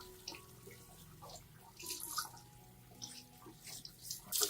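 Water from a tap splashes and trickles faintly while an orchid's roots are gently rinsed, a soft, uneven running patter throughout.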